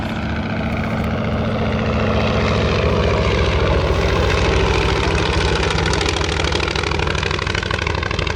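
A propeller aircraft engine idles and taxis onto the runway at an airshow, a loud, steady, close throbbing drone with a fast regular propeller beat and no talk.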